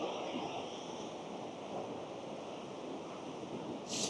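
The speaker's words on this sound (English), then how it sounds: "It's just the waves." Waves surge onto Cambois Beach on a rising flood tide, a steady broadband wash of surf with wind noise across the microphone, continuous and fairly close, with no talking.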